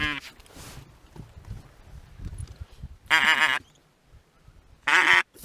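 Ducks quack in loud, harmonic bursts at a goose-hunting spot outdoors, two strong calls standing out over low murmuring voices and field noise.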